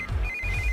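A telephone rings in a tense moment of a Hindi-dubbed action film, a steady electronic ringtone tone running through most of the short stretch over a low background rumble.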